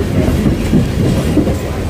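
Local train running on tracks out of Sealdah station on a rainy day, a loud continuous rumble with rhythmic clickety-clack of wheels over rail joints heard from inside the carriage.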